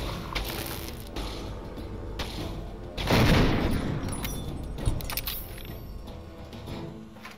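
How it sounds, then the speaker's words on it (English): Gunfire from the turbo shotgun in Fallout 3 at the National Guard Depot, with a burst of loud blasts near the middle over ongoing mechanical clatter and game ambience, plus a later sharp shot. "See what our turbo shotgun does against this guy"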